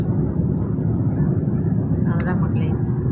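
Steady low roar of a jet airliner cabin in flight on a trip to London, a dense continuous engine drone filling the background while a person talks quietly over it.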